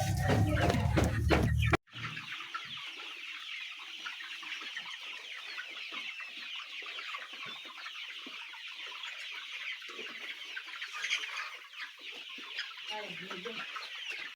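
Chickens on a poultry farm cluck in a continuous busy chorus at moderate distance, preceded by a short loud burst of other sound that cuts off abruptly.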